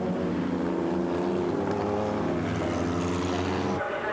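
Race cars from the 1997 Monza 1000 km endurance race set off on the warm-up lap, a steady loud drone of several engines with layered harmonic whine and no spoken voices.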